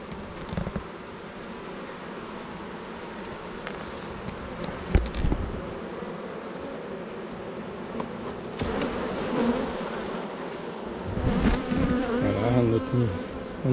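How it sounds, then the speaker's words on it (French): Honeybees swarm around a honey frame being harvested, their steady dense buzzing close and continuous, with occasional rustles and knocks as the frame is handled. "On voit les abeilles là en train de collecter le miel"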